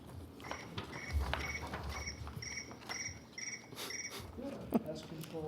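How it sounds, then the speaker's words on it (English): Crickets chirp in regular pulsed trills inside a fire protection district board meeting room, fairly close and steady, with faint shuffling and room noise around them. "Is there crickets around here somewhere?"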